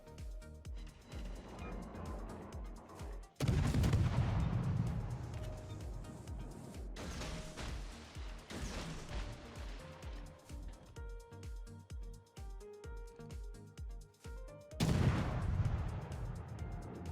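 Naval guns firing from the Tier V European destroyer HSwMS Visby in the video game World of Warships: loud, heavy booming salvos that hit hardest near the start and again near the end, amid steady battle noise and engine rumble.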